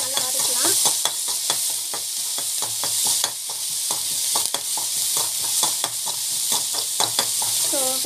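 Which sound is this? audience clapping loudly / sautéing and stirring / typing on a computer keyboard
sautéing and stirring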